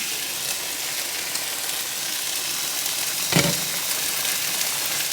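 Meat fries in a pan for carne frita, a constant hissing sizzle that stays close and loud, broken once by a brief clatter or stir.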